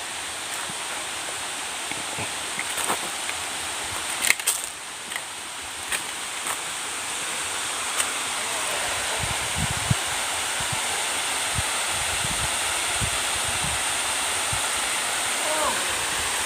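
Steady broadband rush of falling water at Tat Mok waterfall, Doi Saket, Chiang Mai, fills the clip, loud and continuous, with a few faint voices and small knocks in the background.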